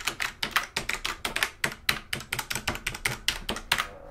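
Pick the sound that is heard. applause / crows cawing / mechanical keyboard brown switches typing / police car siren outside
mechanical keyboard brown switches typing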